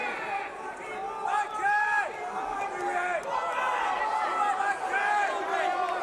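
Crowd roaring and cheering throughout a Michael Bisping MMA bout, a dense, steady swell of many voices with shouts rising above the din at a live arena event.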